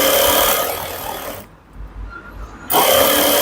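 Sewing machine stitching along the folded edge of a blouse strip, a loud close mechanical whir that stops for about a second in the middle and then starts again.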